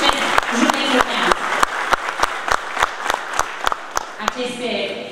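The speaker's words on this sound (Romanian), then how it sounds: "aplauze din partea dumneavoastră sunt sigură că îmi dă o forță" Audience at a political rally clapping in unison, a regular beat of loud sharp claps spaced about a third of a second apart, close and prominent, with crowd murmur and voices underneath.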